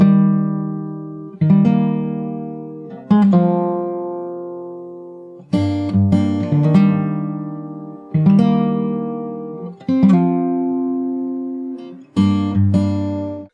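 Fingerstyle acoustic guitar plays the full bridge section of a song, with plucked chords struck every second or two and left to ring and decay, close and clear with no voices.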